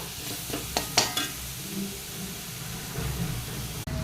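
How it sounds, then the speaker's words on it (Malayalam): Chopped tomatoes, coriander powder, chili powder, turmeric and salt get stirred in a pan for a chicken bone curry, giving a low, steady sizzle with a few soft scraping clicks of the spoon near the start. "2 തക്കാളി അരിഞ്ഞിടാം, 1 സ്പൂൺ മല്ലിപ്പൊടി, 1 സ്പൂൺ മുളക് പൊടി, 1/2 സ്പൂൺ മഞ്ഞൾപ്പൊടി, 1 സ്പൂൺ ഉപ്പ് ചേർത്ത് പച്ചമണം മാറുന്നത് വരെ നന്നായിട്ട് ഇളക്കിയെടുക്കാം"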